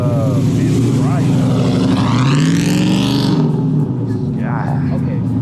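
Truck engine revving loudly and sweeping past at a cars and coffee meet, with the roar rising and then fading, while people talk over it.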